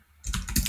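Quick clicks of computer keyboard keys as an email address is typed, a short close burst of several keystrokes starting after a brief quiet moment, with no talking.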